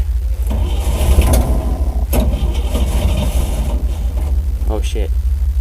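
The engine of a 1955 Chevrolet dump truck cranks on a cold start with no choke, a loud, low, churning rumble that runs the whole time, while voices talk over it.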